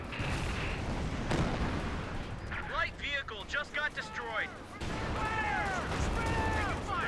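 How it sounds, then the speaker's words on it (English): Major artillery barrage in Company of Heroes 2, with heavy booms and crackling blasts rolling through dense battlefield noise and voices talking over the gunfire. "Is that major artillery or what?"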